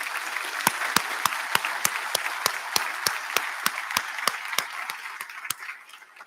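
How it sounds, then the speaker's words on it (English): Applause from an audience at a high school senior awards ceremony: evenly spaced sharp claps, like one or a few people clapping steadily close by, fairly loud, dying away at the end. "Could we give them a round of applause, please?"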